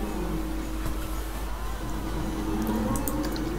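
A water sprinkler sprays steadily in the theme-park game Planet Coaster, a continuous wet hiss with faint liquid drips that holds at an even level for the whole stretch.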